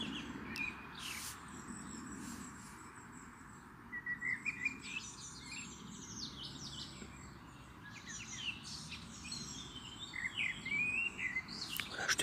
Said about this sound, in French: je te laisse écouter les oiseaux